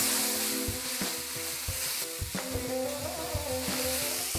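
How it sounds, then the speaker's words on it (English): Masala paste sautéing with browned onions in a pan for biryani, a steady close sizzle broken by repeated scraping stirs and spoon knocks, with no talking. "Sauté this till the raw smell goes off."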